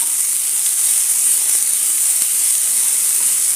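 Onions sauté with a spoonful of salt in a pan for potato masala, giving a steady, loud hissing sizzle that stays unbroken throughout.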